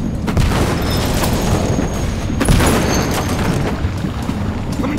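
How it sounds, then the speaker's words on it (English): A grenade explodes in a World War 2 video game, a loud, dense boom that rolls into continuous rumbling blasts and crackling debris, sustained and close. "Grenade out!"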